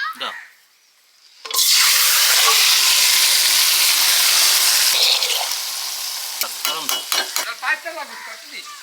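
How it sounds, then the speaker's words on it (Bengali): Marinated fatty farm-raised broiler chicken hits a large, very hot wok with a sudden loud hiss, settling into steady sizzling and frying, then stirring scrapes and clinks as the sizzle softens. "বড় কড়া গরম হয়ে গেছে ম্যারিনেট করা মাংস ঢেলে দিচ্ছি"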